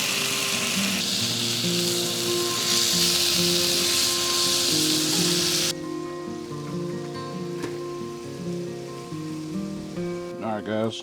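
Marinated short ribs sizzle on a grill with a loud, dense hiss close up, which drops off sharply halfway through, leaving background music playing on its own.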